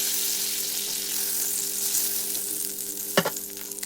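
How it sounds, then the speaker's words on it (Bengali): Pointed gourd sizzling and frying in mustard oil, a steady bright hiss throughout with a brief clatter of turning near the end, close and alone without talk. "পটলটাকে আমি একটু উল্টে পাল্টে লাল লাল করে ভেজে নিলাম"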